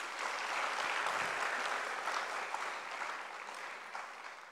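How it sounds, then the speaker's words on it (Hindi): An audience at a youth wing welcome session at Gyan Sarovar breaks into loud, sustained applause that fills the room before slowly tapering off, with no talking over it. "तो अपने लिए एक बार जोरदार तालियां।"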